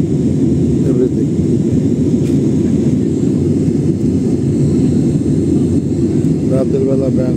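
Inside an airplane cabin during a night flight over Bangkok, a steady, loud engine drone hums without pause, with faint voices under it.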